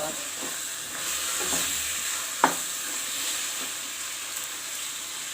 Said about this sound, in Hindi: सब देला के बाद एकरा अहाँ खूब बढ़िया से फ्राई करू।